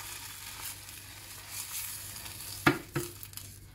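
Walnuts sizzle quietly in a hot pan, with a soft steady frying hiss and a couple of sharp clinks from stirring near the end.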